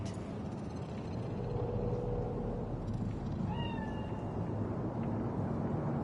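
A cat meows a few short times in Cyberpunk 2077's Night City, faint and mid-distance over a steady low city rumble, with no talk.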